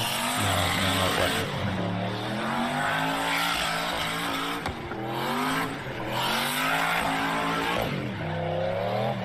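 A rear-wheel drive car does a burnout, its engine revving hard and loud throughout with wavering pitch, the roar rising and falling alongside a rough tire squeal.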